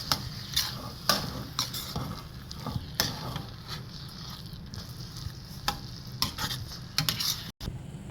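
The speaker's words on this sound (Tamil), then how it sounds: "இதை இப்போ நல்லா மிக்ஸ் பண்ணிக்கலாம்." Nattu sakarai laddu mixture being stirred in a pan, with steady scraping strokes and a soft sizzle underneath, spoon clinks and sharper scrapes recurring every second or so, close and moderately quiet.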